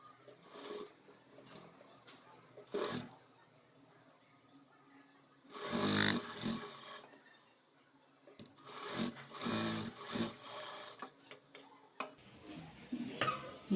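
A sewing machine runs in intermittent bursts as it stitches the front lining of a blouse, with quiet pauses between the louder runs of rapid mechanical ticking.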